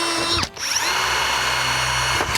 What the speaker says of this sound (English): We're now gonna drill 3 holes with each and average the times